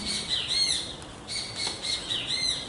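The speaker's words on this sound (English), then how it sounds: "Shut up, birds." Outdoor birds chirp and squawk in repeated bright bursts, close and fairly loud, with no talking.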